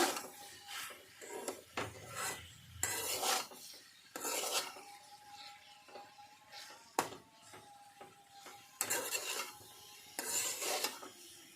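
Scraping and stirring of green tomatoes being mixed with turmeric, cumin and coriander powder in a pan, with repeated rasping strokes in short bursts, close and moderately loud, no talking.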